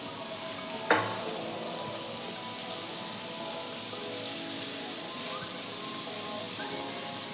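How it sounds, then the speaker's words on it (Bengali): Chopped tomato pieces drop into boiling water for a fish curry, making one sharp splash and clatter followed by a steady bubbling hiss that continues close by with no voices. "জলে আমি একটা টমেটো কুচিয়ে নিয়েছি, টমেটো টুকরোগুলো আমি জলে দিয়ে দেবো।"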